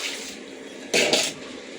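A brief splash of water into a mixer jar being washed, about a third of a second long, with a short second gush, against a steady hiss.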